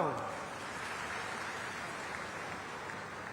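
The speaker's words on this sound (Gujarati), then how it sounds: "તાળીઓ તો પાડો" A crowd claps steadily at an outdoor ceremony inaugurating a recharge well under the Jal Shakti campaign in Chodungari, Banaskantha. The dense, even applause runs for about three seconds at moderate level without fading.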